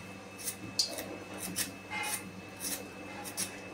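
Potatoes are peeled for a fasting-day bhaji, short scraping rasps repeating every half second or so, close and fairly quiet, with no talk.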